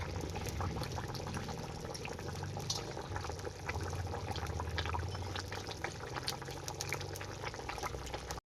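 Water at a steady rolling boil in a pot on a clay stove while a Rohi fish curry is being made, a continuous dense bubbling and hissing that stays close and even throughout, with no talk.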